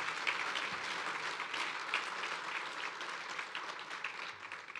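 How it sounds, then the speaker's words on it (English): Steady applause from a lecture audience honoring a speaker at a talk on conservatism, a dense, even wash of many hands clapping that holds at a moderate level throughout, with no voices over it. "how about a round of applause for this wonderful man?"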